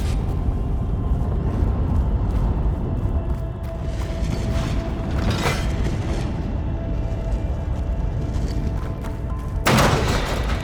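Ballista shots in the video game Horizon Forbidden West, heavy booming impacts over a constant loud rumble of battle noise, with a sharp blast standing out near the end.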